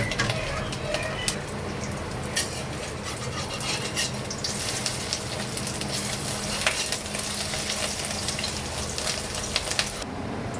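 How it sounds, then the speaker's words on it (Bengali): Small fish fritters frying in hot oil in a wok give a steady, close crackling sizzle that runs through the whole stretch. A few faint bird coos sound in the background. "কড়াতে তেল দিয়ে দিয়েছিলাম, গরম হয়ে গেছে। এবার আমি বড়াগুলো ছোট ছোট করে ছেড়ে দেবো।"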